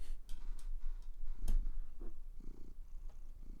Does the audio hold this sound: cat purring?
yes